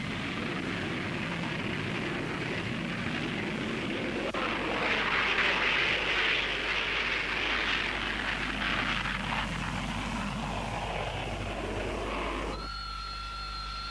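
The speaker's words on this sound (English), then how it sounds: "request clearance for conventional takeoff" A Harrier jet making a conventional takeoff, its engine a loud sustained roar and hiss that swells in the middle and holds steady before cutting off abruptly near the end.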